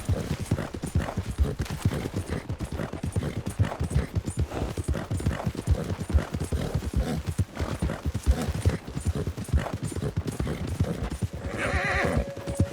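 Steady clip-clop of horse hooves in the video game Red Dead Redemption 2 throughout, with a horse whinnying now and then and a brief high tone near the end.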